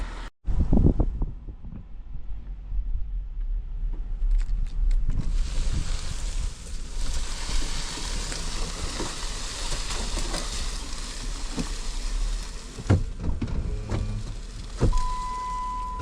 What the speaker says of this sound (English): Put the old Jeep in four-wheel drive.